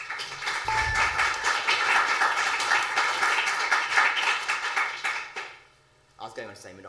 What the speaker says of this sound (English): These people will clap for anything.